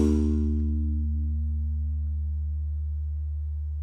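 A single low note played on a Haken Continuum without dampening, using a Karplus-Strong string model, rings out alone with rich harmonics that fade slowly and sustain for several seconds.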